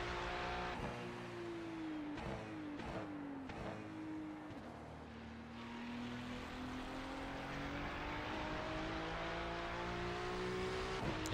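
In-car sound of a Ferrari GT3 race car, with the engine revving through quick downshifts and then pulling steadily higher, over a constant rush of tire and road noise.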